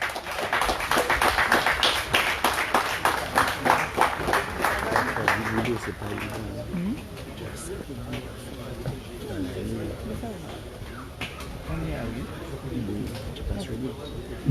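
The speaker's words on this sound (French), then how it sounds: "Farel François Audrin, sous vos applaudissements." Audience applause at a firefighters' medal ceremony during a congress of sapeurs-pompiers in Martinique: a dense, fairly loud crowd clapping for the first six seconds, then fading into quieter scattered claps and murmuring voices.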